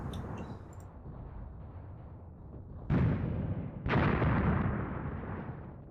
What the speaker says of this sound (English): being pinned down a bit by this mortar fire